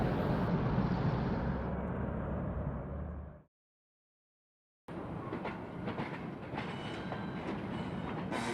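A 1950s Oakland A-line bridge train rumbles loudly along the tracks, cuts out into silence for a moment, then resumes with rolling rail noise and rattling clatter.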